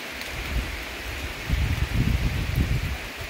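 Heavy rain falls steadily in the interior of Pernambuco, a dense continuous hiss with low rumbling swells that thicken midway, loud and close with no voices.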